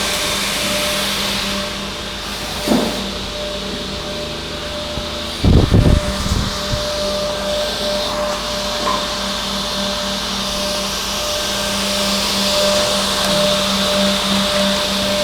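A plywood edge being run through an edge-banding machine, a steady broadband mechanical whir with a constant hum, broken by a couple of short, sharp knocks partway through, with no talking.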